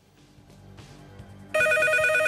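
A telephone bell starts ringing suddenly and loudly partway through a game-show studio broadcast, with low murmuring before it.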